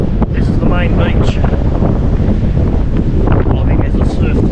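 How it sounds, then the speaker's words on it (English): Strong wind from a cyclone buffets the microphone with heavy, continuous rumbling at a beach on Stradbroke Island, while a voice speaks underneath and surf hisses in the background. "It is so windy because of Cyclone Seth."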